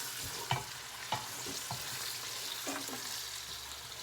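Celery and onions fry in a pot for cabbage and rice soup, giving a low steady sizzle with a few soft knocks and scrapes from stirring.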